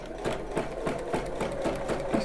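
A sewing machine stitches bra fabric in a fast, even rhythm of mechanical clicks and whirs, close and steady with no talk.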